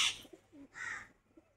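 Pigeons of an old traditional Bengali breed coo in short soft bursts, close by and with no voices.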